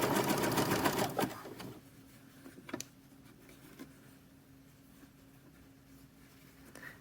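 A sewing machine stitches elastic onto boxer briefs in a short, fast whirring burst that stops abruptly, followed by quiet, scattered ticks and taps of the machine.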